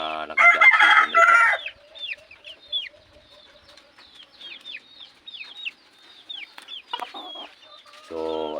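Red junglefowl kept as backyard birds: a loud nearby crow opens, then a run of short, high clucks and chirps follows, with another crow near the end.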